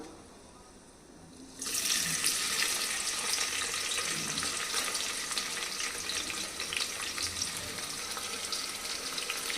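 Onions and whole spices frying in a pot for mutton curry: an abrupt, loud, steady sizzle bursts in after a quiet start and continues crackling evenly throughout.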